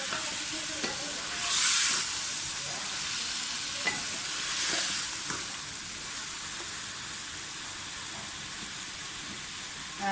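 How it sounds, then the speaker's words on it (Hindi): Potato slices fry with tomatoes in a pan for aloo ki qatliyan, giving a steady, close sizzle with a few spoon clicks and stirring scrapes. "इसके साथ भूनें अच्छी तरह से आलू को।"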